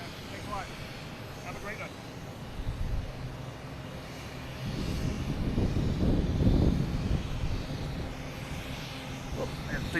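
A JetBlue airliner at Boston Logan produces a rising engine rumble that swells midway, under intermittent talk nearby.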